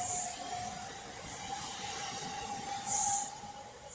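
A train pulling out of Longbridge railway station: a low rumbling rolling noise with a thin sustained tonal whine and periodic hissing bursts, heard at moderate distance without talk.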